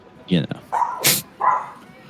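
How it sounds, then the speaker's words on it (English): A dog barks a few times in short yips and woofs, moderately close, with a whimpering quality, over a quiet background. "Hold on, sorry, dog barking."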